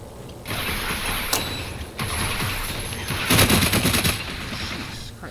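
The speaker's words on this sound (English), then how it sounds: "That sniper-like shotgun" Shotgun blasts and mechanical reloading clatter in the VR shooter Farpoint during a deathmatch, loud sharp bursts over a dense, busy game soundscape.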